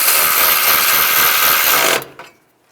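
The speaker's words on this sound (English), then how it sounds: "Put this bolt in, tighten it down." A power tool runs loudly and steadily for about two seconds, driving a bolt into a transmission mount bracket on a 2010-2017 Chevrolet Equinox, then cuts off with a brief clatter and quiet.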